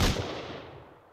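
A single loud, close gunshot boom from an auto turret in Rust Console Edition, with a sharp attack that decays into a rumbling tail over about a second.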